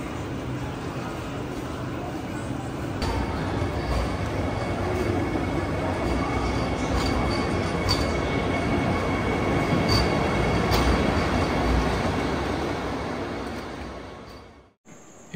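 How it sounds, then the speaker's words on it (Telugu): The Secunderabad to Tirupati Vande Bharat Express rolls into a station platform with a loud, sustained rumble and metallic wheel squeal before the noise cuts out sharply near the end. "ఇదేనండి మన వందే భారత్,"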